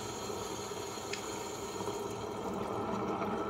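Water is poured to rinse a masala grinding stone while making Konkani-style mushroom phanna upkari. A faint, steady trickle and splash runs continuously at a low level.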